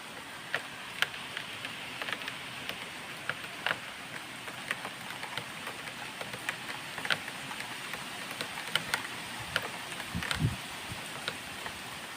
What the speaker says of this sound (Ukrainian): Такий справжній літній дощик.